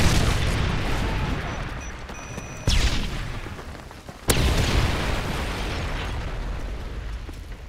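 Two heavy Predator missile blasts boom in a Modern Warfare 3 match, each a sudden loud impact followed by a long rumbling roar over continuous battlefield noise.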